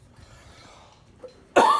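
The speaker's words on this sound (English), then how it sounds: "Just got the cough." A single sharp human cough, close and loud, from someone with a sore throat, following a quiet stretch of faint background noise and a small throat sound.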